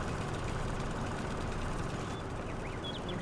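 In Farming Simulator 22, a small lawn tractor engine idles with a steady, even low rumble that runs without pause under faint background ambience.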